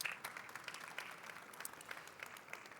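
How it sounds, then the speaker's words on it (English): Applause from a conference audience, a brief patter of scattered hand claps at low level, fairly distant and thin. "Big applause"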